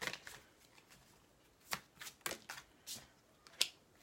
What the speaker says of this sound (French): je vais tirer la première carte pour les personnes qui ont choisi le 1